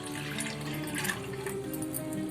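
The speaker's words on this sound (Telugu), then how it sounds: "ఇప్పుడు ఒక బౌల్ తీసుకొని కొంచెం వాటర్ పోసుకొని" Water runs and splashes into a bowl in a kitchen, a short, steady pour heard up close with no talking.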